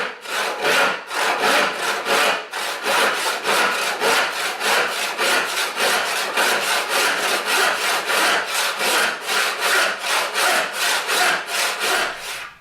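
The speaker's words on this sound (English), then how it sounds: "A few short light strokes get a kerf established." Western backless hand saw cutting holly wood, a steady run of about twenty rhythmic rasping push-pull strokes, loud and close with no voices.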